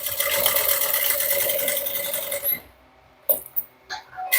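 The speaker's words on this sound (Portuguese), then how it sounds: "Agora eu costuro esse e reservo. Costura simples, básica aqui," A sewing machine runs a simple straight seam with a steady buzzing whir for about two and a half seconds, then stops, followed by a few brief handling clicks and rustles.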